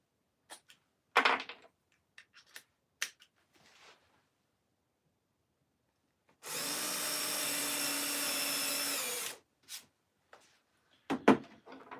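A power drill bores a hole in wood during custom woodworking, running steadily for about three seconds amid scattered knocks and handling clatter before and after.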